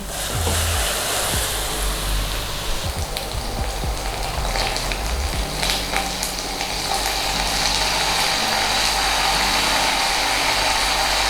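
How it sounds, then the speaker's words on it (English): Hot oil poured steadily over chili flakes in a bowl for homemade Chinese-style chili oil, giving a loud, continuous crackling sizzle with no talking. "we need to keep adding the hot oil and letting it settle inside our bowl"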